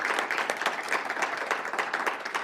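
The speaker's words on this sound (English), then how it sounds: "One more round of applause for Ms. Satterfield." Audience applause at a panel discussion on history and restorative justice in Princeton, a steady dense round of clapping from a crowd filling the whole moment with no talk over it.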